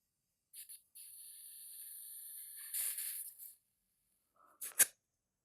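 An airsoft gun magazine vents gas in a thin hissing spray lasting a couple of seconds, followed by a short pause, then a couple of sharp clicks and a brief final puff, heard close in a quiet room.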